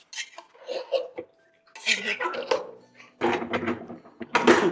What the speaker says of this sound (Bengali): এটাকে একবার মিশিয়ে দিচ্ছি।